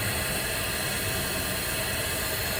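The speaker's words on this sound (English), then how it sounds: "You'll hear some pink noise in a moment." A steady, broadband pink noise test signal on a Lexus LBX Morizo RR car audio system plays at constant level, even and unchanging, with no other sounds present.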